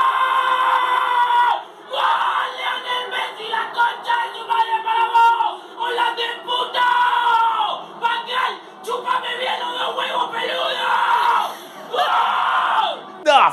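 Argentine fans scream and yell in celebration of World Cup goals, a loud, sustained crowd roar of shouting voices that surges in long bursts with brief dips between them.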